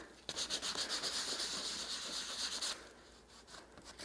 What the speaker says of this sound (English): We got our 500 grit sandpaper again. We'll just hit that real quick.